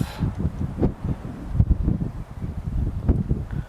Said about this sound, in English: It's really windy, so I'm not quite sure if I can fly at all